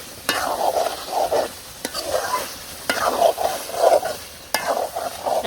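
Meat being stir-fried for kosha in a pot, sizzling steadily while a spatula scrapes and stirs in repeated strokes, with sharp clanks against the pot now and then, close and without talk.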